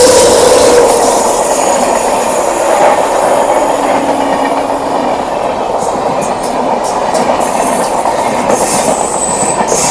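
The LTT Ernakulam Express rushes past close by at Koratti Angadi with a loud, continuous rumble of wheels on rail, rhythmic clickety-clack from the joints and a faint metallic squeal.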